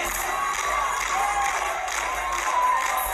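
At a Tesla plant opening in China, a crowd cheers and claps steadily along to Elon Musk's dancing, a dense, bright wash of applause and shouts that carries on without a break.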